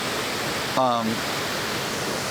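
A river rushes below Barberville Falls, a broad constant roar of water heard close and loud throughout, with a brief voice sound partway through.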